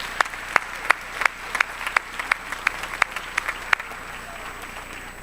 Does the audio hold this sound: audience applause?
yes